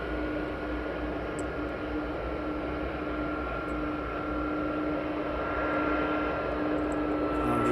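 An aircraft taxiing at East Midlands Airport gives a steady, broad engine roar with a constant whine, holding level and slightly swelling near the end, heard from a fixed spot without voices.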